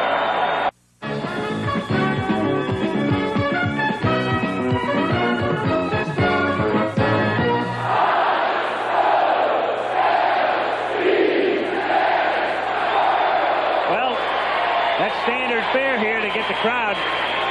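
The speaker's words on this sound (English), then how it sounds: "Crowd excited." A ballpark crowd at the 1983 World Series Game 2 between the Baltimore Orioles and Philadelphia Phillies, with loud stadium organ-style music first, then a sustained, excited roar of fans with scattered whistles and shouts.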